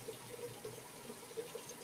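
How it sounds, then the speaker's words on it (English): Water runs from a kitchen tap into a sink while pouring off excess liquid during Middle Eastern cooking, a steady faint splashing wash with small bright drips, no talking. "I'm sorry for the water noise"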